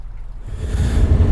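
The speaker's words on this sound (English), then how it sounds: "we are motoring on the Menai Strait" A small sailboat's engine drones low and steady while motoring on the Menai Strait, with rushing wind and water noise swelling in after a brief quieter start.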